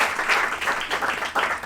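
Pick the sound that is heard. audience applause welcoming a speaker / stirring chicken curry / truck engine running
audience applause welcoming a speaker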